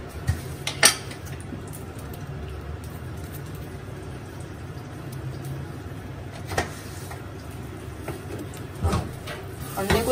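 A spoon scrapes and clinks against a frying pan during cooking, with intermittent metallic scrapes and knocks over a low kitchen background.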